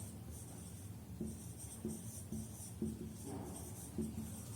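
Writing by hand in a science class on air pollution, faint steady scratching strokes in a quiet room, with a soft rhythmic pattern roughly every half second.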